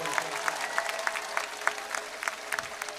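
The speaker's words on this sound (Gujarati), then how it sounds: "જોરથી તાળીઓ પાડો લે, મને ખબર પડે." Energetic clapping from a political rally crowd in Banaskantha, a thick layer of hand claps with regular louder bursts standing out, near and fairly loud, with no clear words spoken.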